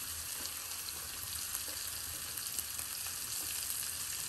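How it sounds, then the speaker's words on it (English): Radish fries in a pan with a quiet, even crackling sizzle that stays steady throughout, with no voices. "First we have to fry the radish for a few minutes"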